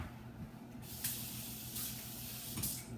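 Water runs steadily from a kitchen tap to rinse out a see-through bowl, a close continuous hiss with brief splashy surges as the bowl is moved under the stream.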